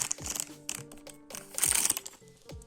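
A small plastic packet holding a mini Labubu toy is crinkled and handled up close, with irregular crackly rustles and light taps coming in uneven bursts.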